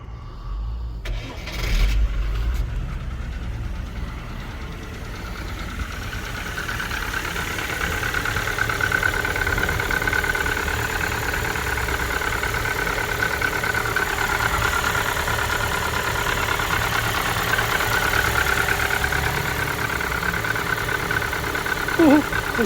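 A used car bought for £200 cranks and catches with a short burst, then settles into a steady, close idle with a faint odd grumble underneath, while a voice talks quietly over it.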